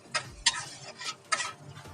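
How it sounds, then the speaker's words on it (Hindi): A spoon scrapes and stirs spices roasting in oil in a pan for chicken do pyaza, giving four short, close, rasping strokes at an uneven rhythm over a soft sizzle. "अब इन मसालों को करेंगे मिक्स। वेट करते हैं थोड़ा तक इन मसालों में भुना हुआ जाएगा।"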